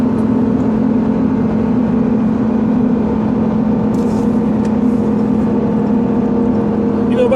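A 2014 Ram 2500 with the 6.4L HEMI V8 runs at full throttle while towing, giving a steady, loud drone near 5,000 RPM heard from inside the cab. The tone holds even throughout with no clear change.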